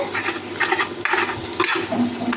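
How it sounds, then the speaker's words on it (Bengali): Egg is scrambled into crumbly bits in a hot frying pan: a steady close sizzle with rhythmic scraping stir strokes of the spatula, loud and continuous without talk. "ডিমটাকে কিন্তু ঝুরঝুরে করে এখানে ভেজে নেওয়া হচ্ছে।"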